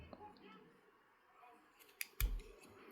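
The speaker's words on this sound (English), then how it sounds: "So I'll just cut off a little bit of yarn." A pair of scissors snips a short length of white yarn during crochet work: a couple of faint clicks, then one crisp close cut near the end, in a quiet room.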